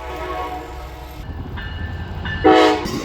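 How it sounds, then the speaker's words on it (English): A train rolls past outdoors with a steady low rumble and a horn tone, swelling louder near the end of the pass. "Rule number 1 of trains: don't get hit by trains."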